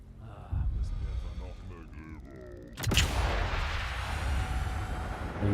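Sniper rifle fired in Sniper Elite 5, a single sharp loud shot cracking out after some talking, followed by a lingering rumbling echo and background noise.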